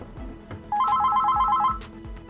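A portable GSM optical alarm, triggered, dials its first stored number and a phone ringtone sounds: a steady warbling electronic ring lasting about a second over low room background with faint knocks.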